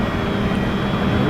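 Steady, loud drone of a light aircraft engine in night flight as the throttle is increased, a continuous hum filling the cabin with no clear breaks.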